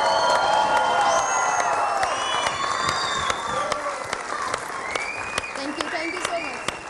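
A studio audience on a Ramadan iftar television show breaks into sustained applause and cheering, dense clapping with whoops and whistles, loud and close throughout, with voices mixed into the crowd noise.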